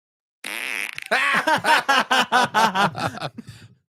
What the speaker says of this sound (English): Everyone fart in the comments.